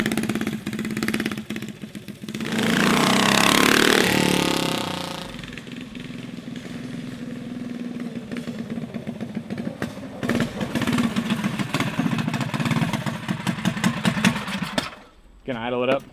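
Predator 212cc small engine running on E85 fuel, a close, steady idle that rises briefly near the start, then settles while people talk over it.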